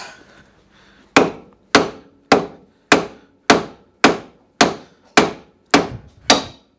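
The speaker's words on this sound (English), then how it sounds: "might need a beefier hammer" A metal hammer strikes a loose track rod end on an Oltcit car ten times in a steady rhythm, each blow a sharp close clank that rings briefly before the next, after a quiet start.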